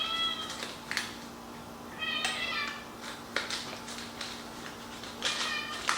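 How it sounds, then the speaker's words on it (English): Several cats meow intermittently in the background of a kitchen, with a few distinct drawn-out calls spread across the moment, fairly faint and somewhat distant. "my cats are communicating with you guys through the back."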